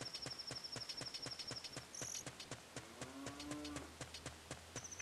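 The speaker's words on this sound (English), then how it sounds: "I hear a cow." A cow moos in the video game Zelda Ocarina of Time, a short low moo set against steady rhythmic game sounds, ticking and clopping, with a faint high electronic tone.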